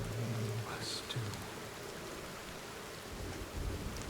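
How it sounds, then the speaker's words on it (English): Steady broadband rain in a video game, loud and continuous throughout, with a few brief low tones and faint game sounds rising above the downpour. "the rain is very loud"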